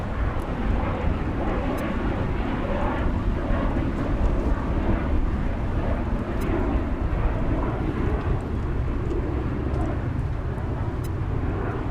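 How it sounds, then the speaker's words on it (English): An Airbus A220 departs from DFW Airport, its jet roar steady and loud through the whole stretch, with gusty wind buffeting the microphone underneath. "Our next departure is Delta Flight 2800 off to Salt Lake City, an Airbus A220."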